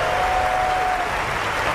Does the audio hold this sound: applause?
yes